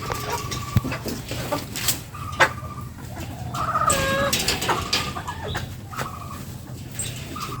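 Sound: chickens clucking on a pigeon and poultry farm

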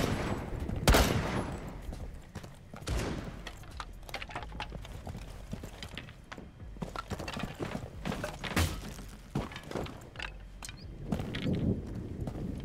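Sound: gunfire in Rainbow Six Siege video game

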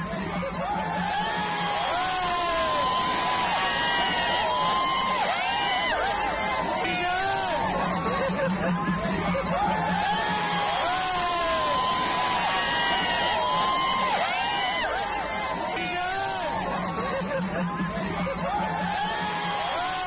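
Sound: crowd of Congress workers and tribal people cheering at Bonalu festival

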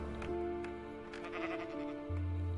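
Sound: sheep bleating in Minecraft video game

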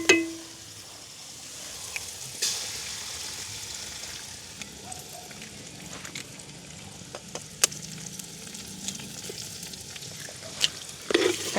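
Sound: eggs frying with leeks and carrot in pan

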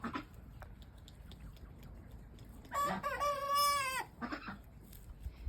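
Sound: ducklings and chickens

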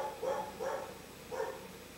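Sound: dog barking

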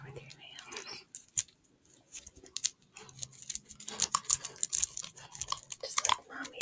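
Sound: pitbull puppy tapping its nails for ASMR

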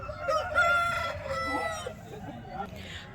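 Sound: rooster crowing at a poultry market

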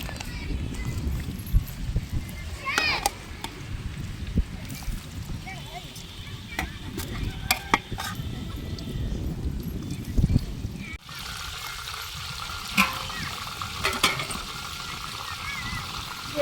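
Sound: soybean chunks frying in oil

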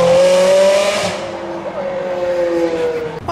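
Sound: car engine revving loudly

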